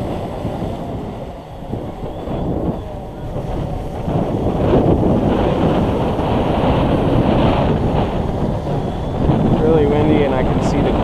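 Strong wind gusts buffet the microphone outdoors while a DJI Phantom 2 quadcopter flies, a rough, fluctuating rumble that swells louder partway through and stays close and heavy.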